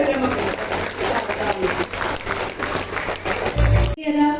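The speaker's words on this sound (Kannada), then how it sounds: "ಚಪ್ಪಾಳೆ" Sustained crowd applause fills a school branch inauguration ceremony in Shivamogga, a dense steady clatter of many hands lasting about four seconds before it breaks off abruptly into a short tonal sound.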